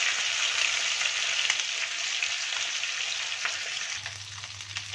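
Chicken pieces frying in hot ghee and oil in a pan, a continuous bright crackling sizzle close by, steady throughout with a low hum joining near the end.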